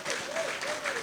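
Audience applause at a new members' induction ceremony of the Chartered Institute of Directors in Nigeria, a steady wash of many hands clapping at moderate volume with no talk over it.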